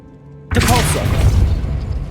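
The Depulso spell cast in Hogwarts Legacy: a sudden loud whooshing boom bursts in after a moment of quiet, then rumbles on, swirling and dense, to the end.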